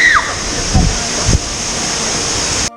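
A waterfall in Guanacaste, Costa Rica roars as a loud, constant wash of falling water, with a couple of brief splashes and a voice briefly over it.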